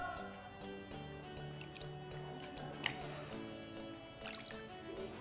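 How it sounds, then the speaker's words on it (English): Hands being rinsed under plain running water without soap, a steady wet splashing and dripping with soft squishy rubbing, moderately quiet and continuous, with no talking. "So let's clean up your hands only with water."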